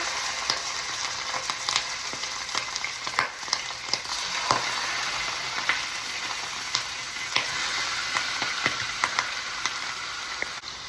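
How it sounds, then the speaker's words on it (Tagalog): Garlic and vegetables sizzle and crackle in a hot pan, a steady frying hiss dotted with small pops and occasional stirring scrapes, close and continuous. "i-prito lang natin ng kaunti"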